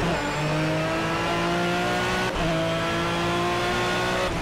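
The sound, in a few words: race car engine roaring in video game Project CARS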